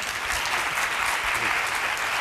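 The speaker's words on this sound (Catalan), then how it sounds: "Un aplaudiment, que si no, no entrarà" Dense, steady applause from a studio audience on a Catalan evening talk show, many hands clapping together evenly and loudly with no voices over it.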